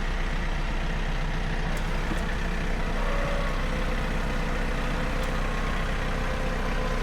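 A semi truck tractor idles and rumbles steadily at moderate distance while maneuvering a long trailer during a delivery, with a continuous low engine drone and occasional faint hissing, and no speech over it.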